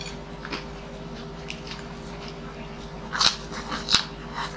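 Crispy fried pork knuckle (crispy pata) being bitten and crunched, with a few sharp crackly crunches close up near the end over a quiet background hum.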